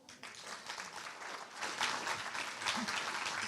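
A conference audience applauds a speaker, the dense clapping swelling after a quiet start and holding steady, heard at moderate distance without talk.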